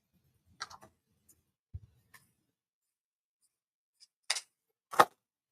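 Scissors trimming fur on a Christmas tree topper bow give a handful of sparse, quiet snips and clicks, with two sharper cuts near the end amid near silence.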